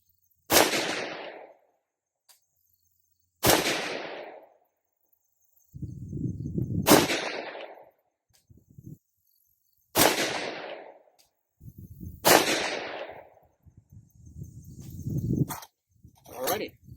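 Six sharp 6.5 Grendel rifle shots with 123gr SST bullets over H4895 powder crack out at a range, spaced a few seconds apart, each followed by a short echoing decay and faint handling noise between.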